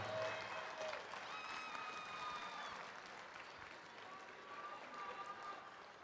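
Arena crowd at a state robotics championship applauding mentors and parents in the stands, a distant, diffuse wash of clapping and cheering with faint whistles and crowd murmur, sustained and fairly quiet.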